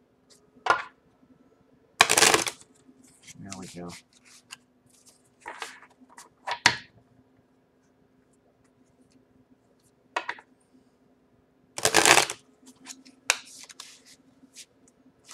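Tarot cards being shuffled in a quiet room, with several short crisp riffling bursts and taps separated by silence, plus a faint steady hum; a voice speaks briefly.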